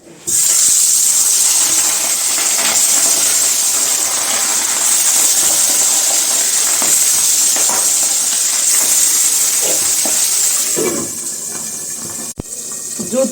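Fish fries in hot oil in a home kitchen pan, a loud, continuous sizzling hiss that holds steady for around eleven seconds before easing off, ending with a sharp click.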